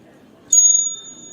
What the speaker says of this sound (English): that is the bell for the beginning